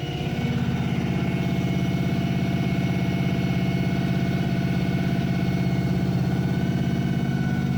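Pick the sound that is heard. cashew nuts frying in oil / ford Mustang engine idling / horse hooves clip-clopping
ford Mustang engine idling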